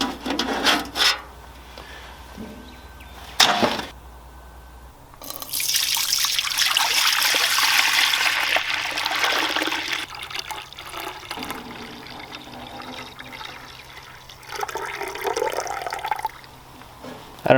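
Boiled-down maple sap poured into a pan during final syrup processing, a steady liquid trickle and splash building to a fuller pour for several seconds, with quieter handling noise before and after.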